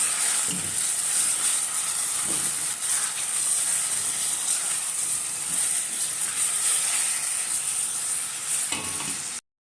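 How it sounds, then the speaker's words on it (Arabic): Pieces of meat sizzling and being stirred in a hot pan while cooking for an okra and meat tagine, a steady close frying hiss with occasional scraping stirs, no talk. "بعد ما شوحت اللحمه لمده حوالي 5 دقايق"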